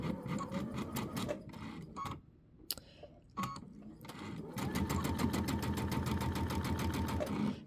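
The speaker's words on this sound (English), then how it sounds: "I'm going to sew from there to where this corner is right here" A sewing machine stitches binding onto a quilt with a steady, rapid needle rhythm that stops and restarts, pausing briefly before running loud and continuous.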